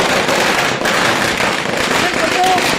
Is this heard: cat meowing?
no